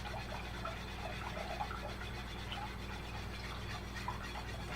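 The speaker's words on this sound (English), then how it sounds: "Whisking this is really a key to making it thicken up" Homemade chocolate syrup whisked steadily over very low heat, a soft continuous scraping and swishing with a low steady hum underneath, close and fairly quiet, no talking.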